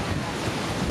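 Wind and surf roll onto a beach at an all-inclusive resort on Mexico's Riviera on a windy day, a loud, steady broadband wash of wind noise and waves.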